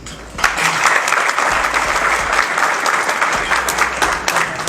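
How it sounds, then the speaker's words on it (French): An auditorium audience at a French engineering school ceremony applauds a welcomed director, steady dense clapping that starts abruptly and holds at full strength throughout. "Je vous demande d'applaudir"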